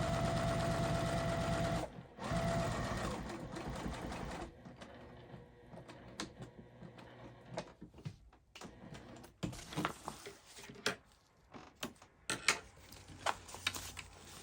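A sewing machine stitches a crossbody bag with a front pocket, running loud and continuous for a few seconds, pausing briefly, then stopping, followed by quieter rustling and handling of fabric.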